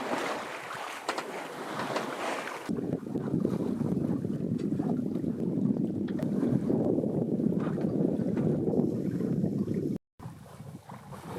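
Steady rush of wind and water around a sailboat making about 4 knots in roughly 6 knots of wind at sea, a continuous loud wash with wind buffeting the microphone, briefly cutting out near the end.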